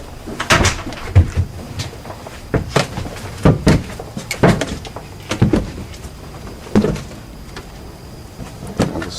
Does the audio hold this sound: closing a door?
yes